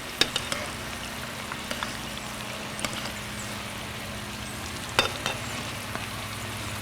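Coconut shrimp sizzle and crackle steadily in a hot pan, a constant frying hiss broken by a few sharp pops and utensil clicks as pieces are turned.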